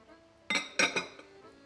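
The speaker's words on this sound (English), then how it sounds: "I have about 24 ounces of button mushrooms, and I'm just gonna put those in" Button mushrooms, about 24 ounces sliced thick, drop into a pan for beef stroganoff: a few quick clattering thumps and clinks in close succession, then quiet.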